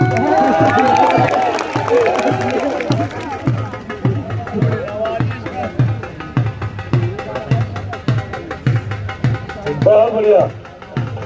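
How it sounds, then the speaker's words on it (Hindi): A crowd at an outdoor wrestling bout cheers and claps steadily, with a loud rhythmic clapping beat running through, while an announcer's voice talks over the noise throughout. "ताली मारो जोरदार की"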